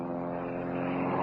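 A propeller airplane rolls down the runway in a radio drama, its engine drone steady and fairly near, building slightly in intensity across the short stretch with no one speaking.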